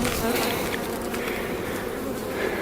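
Honey bees buzz steadily around an opened hive during a Demaree manipulation inspection, a dense continuous drone close by, with a faint voice under it.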